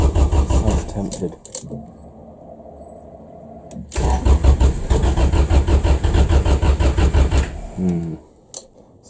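A Honda Civic EF engine cranks with a fast, loud churning whir, pauses, then cranks again in a second long burst before catching into a rougher running note, heard close up.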